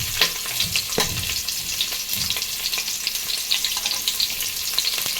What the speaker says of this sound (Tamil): இப்போ நீல வாக்கில் கட் பண்ணி வச்ச 2 வெங்காயம் இதில் போட்டுக்கலாம்